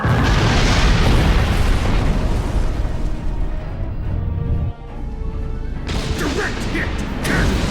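Loud, sustained explosion from a direct hit in the space combat game Star Trek Online, a dense roaring boom that rumbles on for several seconds with a brief dip midway, crackling debris throughout and voices shouting over it.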